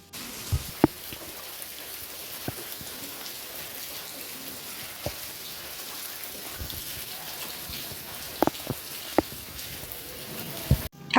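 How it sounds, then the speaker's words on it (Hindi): Steady rain falls throughout, a dense hiss with scattered louder drips and taps landing on a nearby surface. "बारिश की आवाज़ आप लोग सुन लीजिए, कितनी अच्छी आवाज़ बारिश की हो रही है।"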